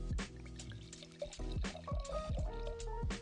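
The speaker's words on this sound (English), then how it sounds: "So what I would do is I would pour it into a glass" Wine poured into a small glass, a close, continuous liquid trickle and glug with rising tone as the glass fills, repeated in short bursts.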